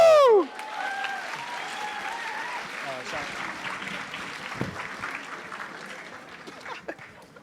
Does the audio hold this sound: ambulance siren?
no